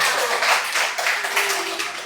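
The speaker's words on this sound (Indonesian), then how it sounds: "tepuk tangan untuk Mita" Classroom applause during a lesson on probability, with a group clapping steadily and close for about two seconds, the rapid hand claps blending into a dense, even patter with no talking.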